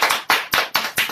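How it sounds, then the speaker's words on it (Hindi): Hands clap in a welcome during an online meeting, sharp bursts arriving roughly every quarter second in an even rhythm, close and fairly loud with no talking. "जबरदस्त तालियों के साथ हम सर को वार्म वेलकम करेंगे"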